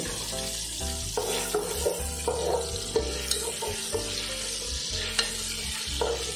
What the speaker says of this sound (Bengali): এবার আমি গাজর দিয়ে দিচ্ছি, গাজরটাও হালকা ভাজা করে নেবো আমি।